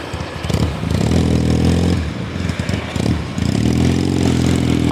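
A motorcycle pulls out into a street in Da Nang, Vietnam, its engine loud and close, revving unevenly with a rattle and a brief dip before it picks up again.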